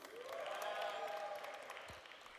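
A conference crowd at a general assembly in Bratislava answers a call for noise with a short burst of clapping and whooping cheers that swells, then tails off, heard from a distance.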